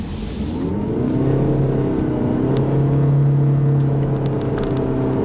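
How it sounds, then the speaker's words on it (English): A 2013 Ford C-MAX Hybrid's four-cylinder engine with CVT gives a steady drone with a droning, slightly strained tone, rising gently as the car accelerates, close and continuous with no talking. "The engine kind of makes a rather unpleasant 4-cylinder noise with a CVT"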